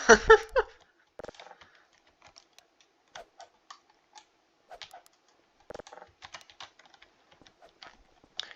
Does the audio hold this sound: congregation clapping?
no